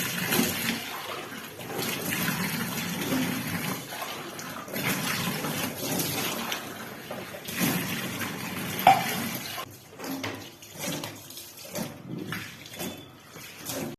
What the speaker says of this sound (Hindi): हार्पिक डालने के बाद देखिए इस तरीके से मैं चारों तरफ अच्छे से मांज लूँगी